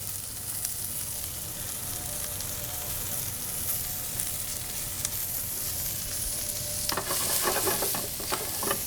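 Sliced shallots and Brussels sprouts frying in a hot pan, a steady close sizzle with stirring scrapes that grow busier and louder near the end, no talking.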